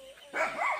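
A dog at a rice harvest gives a couple of short barks close by, with a brief faint sound before them.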